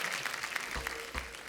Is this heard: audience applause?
yes